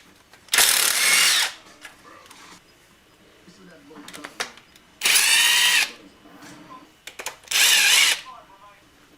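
Power tool loosening 14mm nuts on a Honda Grom engine during a rebuild: three separate loud whirring bursts of an impact driver or ratchet, each about a second long, with quiet workshop noise and faint handling sounds between them.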